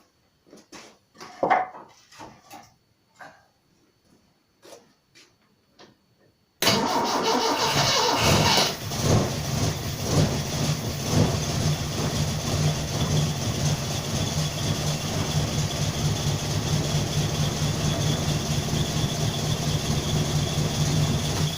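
A Simca Aronde Plein Ciel car engine cranks and catches after a few quiet knocks and handling noises, then settles into a loud, steady, slightly uneven running idle close by.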